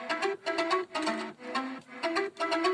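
A soft synth plays a slow, rhythmic phrase of sustained notes with sliding pitches, heard alone and fairly close.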